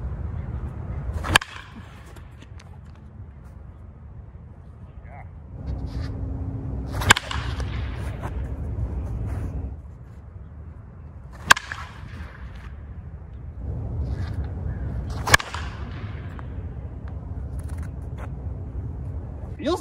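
A baseball hit with a European beechwood wood bat, sharp cracking impacts repeated about four times at irregular intervals, each single and loud against a low background rumble, with talk between hits.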